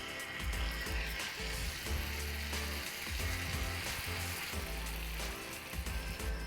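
Butter and chopped ginger sizzling on a hot tawa griddle for stuffed capsicum gravy, a loud steady crackling fry that fills the whole stretch, no voices.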